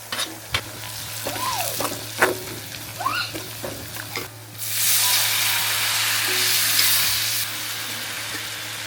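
Onion and garlic tempering for a fish curry hits a hot pan with a sudden loud, broad sizzle lasting a few seconds, after quieter clicks, clatter and brief voice-like sounds.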